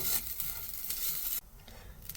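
Vermicelli sweet being stirred with cardamom powder in a pan, a steady sizzling, scraping texture close by that drops suddenly quieter partway through, with no voices.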